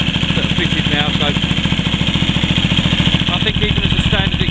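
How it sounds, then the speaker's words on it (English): Motorcycle engine idling through its standard underbelly exhaust, a steady rapid low pulsing throb heard close up, with someone talking over it. "I think even as a standard exhaust it sounds really nice."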